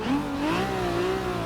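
A NASCAR-style race car engine in Forza Motorsport 6, from the Fast & Furious car pack, droning and climbing in pitch as it revs, loud and close with no talk.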